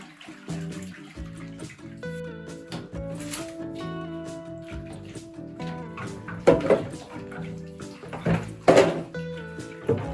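Warm water pouring into a bath mixed with vinegar and dish soap: a running, splashing flow close by, with intermittent clunks and louder sloshing bursts toward the end, and no speech.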